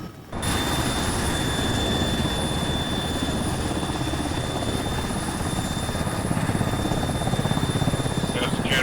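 A helicopter idles loud and close after troops dismount, its rotor chop and turbine whine holding steady throughout with no talking.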